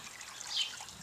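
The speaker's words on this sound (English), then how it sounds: "Are you filling the pond?" Water trickles into a backyard pond as a small child fills it, a quiet, steady dribble with a brief brighter splash near the middle, no voices over it.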